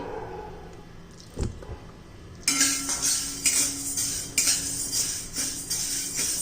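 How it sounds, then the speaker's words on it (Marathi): Unsoaked moong beans roasting in a pan over medium heat, stirred with a utensil, giving repeated scraping rattles and light clinks in a regular rhythm after a quiet start, close and fairly loud, no voices. "मध्यम गॅसवर चांगले दोन तीन मिनटं भाजून घ्यायचे आहेत आपल्याला"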